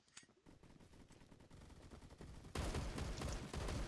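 Shotgun blasts and other gunfire in the video game Phantom Forces come as repeated sharp shots, faint at first and then louder and denser toward the end, with no voices.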